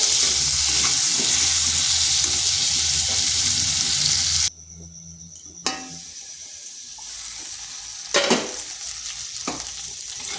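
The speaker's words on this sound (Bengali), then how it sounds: "সামান্য একটু লবণ দিচ্ছি আর আলুগুলোকে একটু ভেজে নেব।" Potatoes frying in oil with a little salt, a loud dense sizzle that suddenly drops quieter midway, then a softer sizzle with occasional utensil clinks and stirring.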